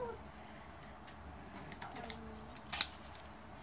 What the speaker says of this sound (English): Make sure I don't cut myself with the scissors.